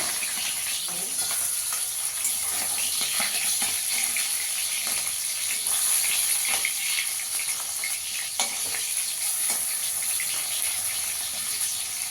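Fish (chapila) frying in a pan, a steady loud sizzle with crackling spatter running throughout and occasional clinks of stirring.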